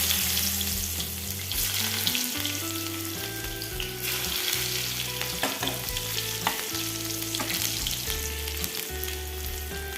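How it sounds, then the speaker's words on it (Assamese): Whole cumin seeds, bay leaf and chopped onion frying in hot oil for an Assamese egg dum curry, a steady close sizzle with stirring and scraping over about ten seconds. "এতিয়া মই তেলত এয়া দিছোঁ গোটা জিৰা লগতে দিছোঁ এফালে তেজপাত আৰু মই মিহিও কাটি থৈছিলোঁ অকণমান পিঁয়াজ দি দিছোঁ"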